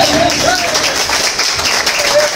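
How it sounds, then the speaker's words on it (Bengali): At an ELS event gathering, an audience claps together in a dense, sustained burst of applause, with a voice talking over it. "একবার জোরে করে তালি সবাই মিলে"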